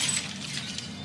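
A glass coffee table dropped from a 20-story building bursts into a brief, bright crash of tinkling, clinking shards spread across a second, with no voices.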